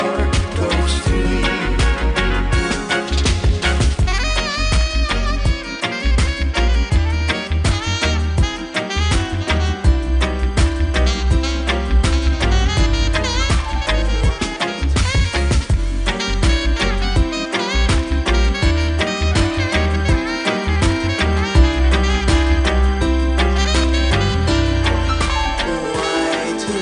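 Dense, continuous full-band music plays, steady and loud throughout with no talking over it.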